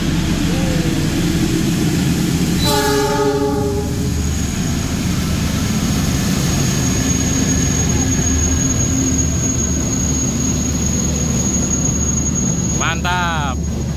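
The Argo Lawu Solo–Jakarta executive express thunders non-stop through Jatinegara station in a loud, continuous roar, with two short horn blasts sounding above the rumble near the start and again near the end.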